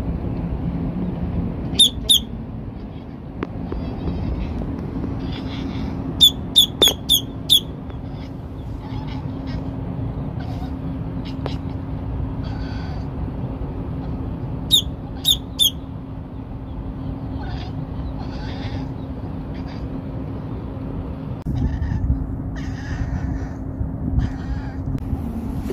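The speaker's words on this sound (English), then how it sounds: "He chased that bird away." A bird squawks around a trawler cruising the Intracoastal Waterway in Florida, giving several short, harsh calls in small clusters over a steady low engine-like hum, with faint knocks and rustles in between.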